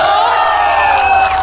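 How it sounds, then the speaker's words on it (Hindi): A concert crowd in Jamshedpur at a Bhojpuri music event cheers and whoops loudly, a sustained roar of many voices with some shouting above it. "एक बार जोर से ताली बजाइएगा।"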